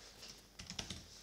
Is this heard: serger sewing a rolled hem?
no